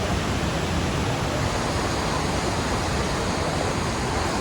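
Hogenakkal waterfall roars nearby, a loud, unbroken wash of rushing water with no pauses and no voices.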